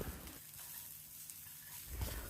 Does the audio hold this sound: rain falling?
no